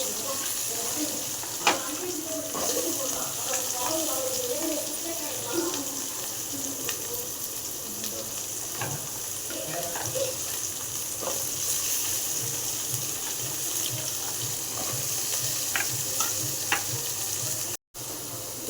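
Small shallots sautéing in hot oil for a country chicken curry, a steady sizzle with intermittent stirring clinks and scrapes, close up, with a faint voice now and then.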